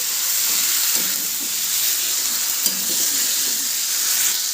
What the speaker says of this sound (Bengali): এই ঠান্ডার মধ্যে চিকেন রান্না করছি আমি